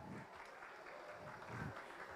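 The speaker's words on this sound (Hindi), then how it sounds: "थोड़ी तालियां हो जाए यार" An audience claps faintly at a stage show, a soft steady patter with a couple of brief swells and no voices over it.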